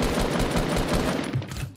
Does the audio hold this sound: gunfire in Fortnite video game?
yes